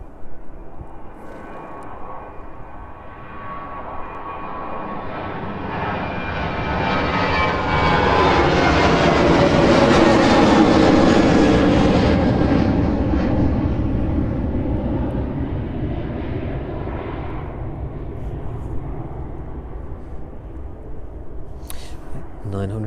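An airliner departing East Midlands Airport builds from a distant hum to a loud, broad engine roar, peaks, then fades as it climbs away, with commentary running faintly underneath.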